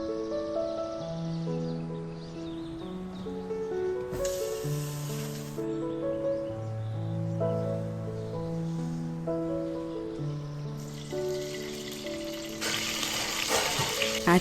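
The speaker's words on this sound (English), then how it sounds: "heat some oil and fry few curry leaves" Curry leaves hit hot oil with sharp, hissing bursts of sizzle, once briefly and again near the end. Both bursts sit beneath melodic background music that plays throughout.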